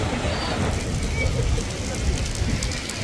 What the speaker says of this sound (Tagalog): Dire-diretso pa rin yung ulan